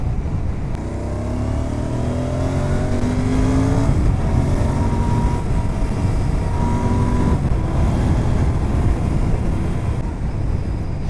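A Royal Enfield GT650 motorcycle rides along a highway, its engine droning loudly and continuously from the rider's position as pitch climbs and drops with the gear changes, all under heavy wind rush.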